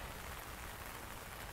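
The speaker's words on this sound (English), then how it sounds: "because it's raining" Steady rain falls at botanical gardens near a lake, a soft, even hiss of drops with no voices and no pauses.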